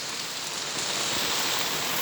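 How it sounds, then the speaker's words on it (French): Steady rain falls continuously during a moderate thunderstorm in Montady, a dense even hiss of drops with no voices, close and constant throughout. "Regardez tout cette pluie qu'on a, ça fait plaisir tout cette pluie."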